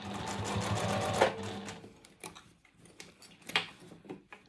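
A sewing machine stitches a seam on a tiny fabric foldover pouch, running with a steady close whir at first, then slowing into lighter, intermittent ticking stitches.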